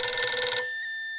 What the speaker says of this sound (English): The phone rang twice.